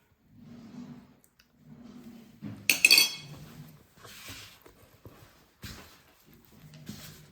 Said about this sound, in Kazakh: Лопатымен, қасықпен әуелі араластырып аламыз